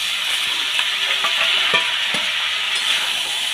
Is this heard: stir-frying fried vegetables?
yes